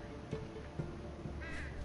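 Birds attacking in the game Unravel, several harsh crow-like caws spaced through a short stretch over a steady game background hum, moderately faint.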